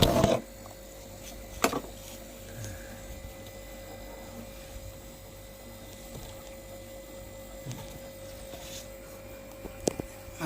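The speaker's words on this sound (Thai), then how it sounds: "เสียงคอมทำงานพี่น้อง" A Haier refrigerator that isn't cooling hums with a steady low electrical drone at a constant pitch as its compressor runs, with a few faint clicks and knocks.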